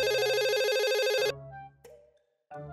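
A cheerful electronic ringtone from a phone in the Roblox game Brookhaven plays loudly and steadily, then cuts off abruptly, followed by a few soft in-game sounds and clicks.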